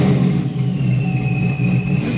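A boosted car engine runs loud and steady, with a supercharger blower's high, thin whine sitting over the deep, constant engine roar.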